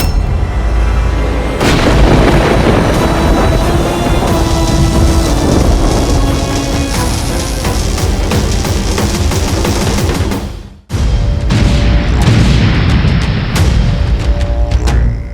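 An Indrastra divine weapon blast from a mythological battle scene: a loud, sustained rumbling roar with crashing booms and a storm-like wash. It cuts off abruptly, then surges back in just as heavily, with no talking.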